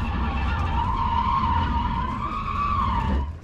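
An electric car drifts through a figure-eight, its tires skidding in one long, loud squeal that wavers in pitch for several seconds before cutting off.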